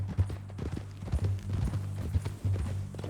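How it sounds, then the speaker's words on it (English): A horse in Red Dead Redemption 2 trots with a steady, close clip-clop of hooves, the rhythmic hoofbeats clear and fairly loud throughout. "That new horse?"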